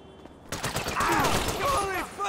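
Rapid bursts of gunfire crackle in GTA 5 during an NPC gang war, a dense run of close shots starting after a quiet moment, mixed with shouting voices.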